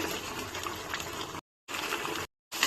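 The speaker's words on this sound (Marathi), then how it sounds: "आता आपण घालूया 4 चमचे तेल, त्यावर कढीपत्ता, कांदा घालून घेऊया" Curry leaves and onion hit hot oil in a pan for chicken keema, giving a loud, bright, steady sizzle that cuts out twice in short silent gaps.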